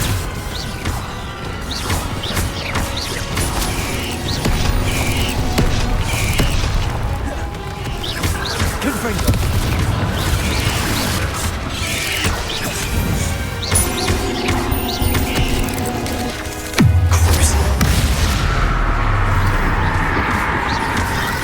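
Spell casting and magical combat in the game Hogwarts Legacy: repeated crashes, whooshing casts and booming impacts pile up over a continuous, busy soundscape, with a sharper heavy blast hitting near the end.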